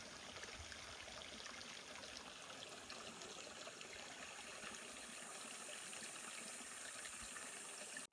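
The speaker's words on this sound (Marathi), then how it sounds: "ही नदी आहे" River water flowing steadily past, a broad continuous rush and trickle heard very faintly from a distance, unbroken and without voices.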